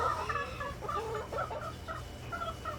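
Several farm chickens cluck in short, scattered murmurs at close range, a steady low hum underneath and no talking over them.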